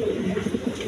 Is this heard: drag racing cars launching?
no